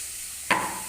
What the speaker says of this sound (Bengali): এবারে আমার পটলগুলো ভাজা হচ্ছে